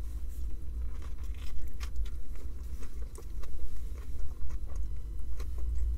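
Close, repeated crunching from biting and chewing a KFC Boxmaster with crispy fried chicken and a potato hash brown, with irregular crisp crackles over a low muffled chewing rumble.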